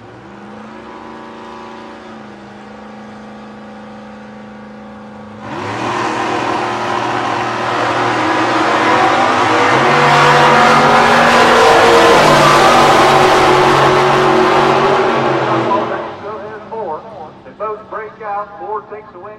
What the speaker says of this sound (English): Chevy Duster against Dragster.